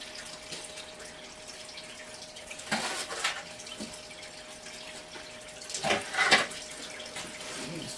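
Water sloshing and splashing in a banjo pan during gold panning, a low steady trickle broken by a few louder swishes and clinks, close and fairly quiet.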